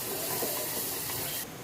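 Spice tempering of mustard seeds, cumin, asafoetida, turmeric, curry leaves and garlic-chilli paste in hot oil for urad dal at a farsan factory, a loud dense hissing sizzle throughout, close and unbroken.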